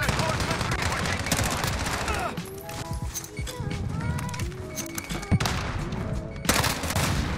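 Rapid automatic fire from the ISO weapon in Modern Warfare, dense bursts of shots with running footsteps and game effects, a brief lull midway, with a player talking over it.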